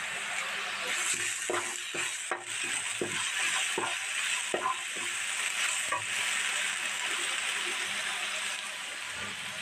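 Curry fries in a pan with ginger garlic masala paste added, giving a steady sizzle broken by irregular stirring scrapes and clinks of a utensil against the pot.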